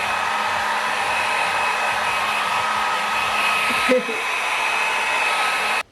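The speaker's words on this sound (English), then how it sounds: "Use a hair dryer so that it dries up quickly." A hair dryer blows steadily with a constant whooshing hum, a brief bump in tone near the end before it cuts off.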